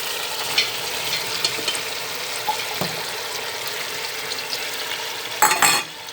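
Onions and veal frying in hot oil as they are stirred, making a steady close sizzle with scraping stir strokes and a brief louder crackle near the end.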